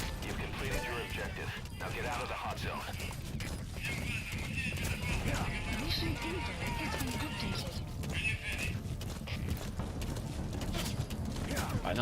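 D-Horse galloping in Metal Gear Solid V, a steady run of hoof clip-clops under busy game music and effects, with someone talking over it throughout.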